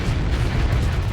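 Starsector space battle with ships exploding in rapid succession, a dense, continuous low rumble of overlapping blasts that never lets up.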